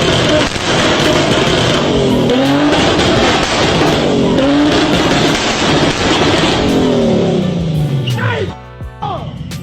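Nissan GT-R engine revving hard and loud for nearly ten seconds, with rising and falling pitch sweeps, tire squeal and a sharp drop near the end, with voices over the roar.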